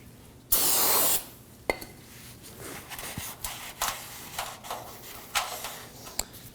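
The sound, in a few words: spraying brake cleaner and wiping hub with rag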